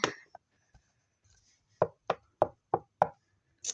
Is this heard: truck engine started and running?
no